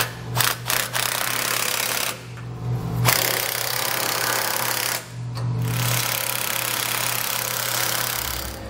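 A power tool rattles in sustained bursts, snugging down bracket bolts on a base plate kit being installed on a 2018 Ford Explorer, with short pauses between runs.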